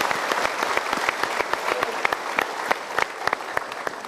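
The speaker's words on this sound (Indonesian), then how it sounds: "sementara kita berikan tepuk tangan dulu" Studio audience on a motivational talk show giving steady, dense applause, many hands clapping together at moderate volume without a pause throughout.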